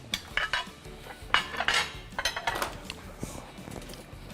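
Metal cutlery clinking and clattering as a pair of utensils is picked up and passed over in a kitchen for tasting a dish, a series of close, bright chinks and knocks with no talk.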